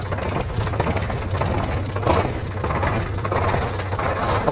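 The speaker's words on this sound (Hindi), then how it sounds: "देख लो एक बार में चालू हो रहा है ट्रैक्टर" A used Yanmar tractor with a double clutch and multi PTO idles with a steady, rough mid-pitched engine chug, close and loud, with no voices over it.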